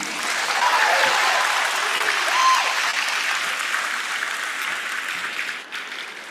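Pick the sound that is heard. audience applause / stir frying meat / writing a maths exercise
audience applause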